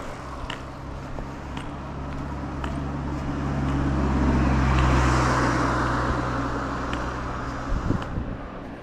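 A car approaches from behind and passes a walker on a road beside the Berlin Wall trail, its engine and tyre roar swelling to a peak near the middle and then fading, with wind noise and a faint click at the end.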